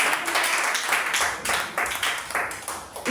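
A church congregation applauding at a Sunday service, steady dense clapping for a few seconds with rising and falling bursts, fairly loud and close, with faint voices mixed in.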